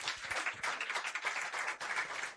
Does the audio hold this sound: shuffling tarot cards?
no